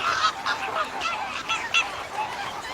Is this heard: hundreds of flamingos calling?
yes